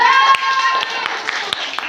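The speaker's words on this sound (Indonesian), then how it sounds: "tepuk tangan" A small classroom group claps during a microteaching session, a handful of scattered, close hand claps at irregular intervals while a voice and children's chatter continue underneath.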